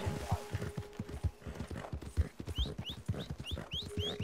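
Horse hooves clip-clop at a steady walking rhythm in a video game, close and distinct, with faint birdsong chirps in the background and someone talking over part of it.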